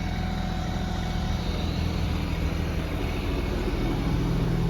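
A tractor engine runs under load while its bucket pulls the roll cage of a rolled Kawasaki KRX 1000, giving a steady, close, low diesel rumble with no pauses.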